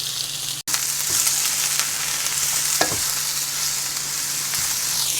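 Bok choy and eggplant frying in a little oil over medium-low heat give a close, steady hiss and sizzle, broken by a brief clatter near the start.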